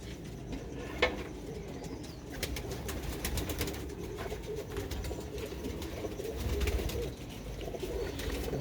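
Black-faced pigeons coo in soft, repeated low calls close by, over a steady rustling background with no talk.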